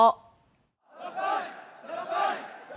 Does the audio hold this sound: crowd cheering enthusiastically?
yes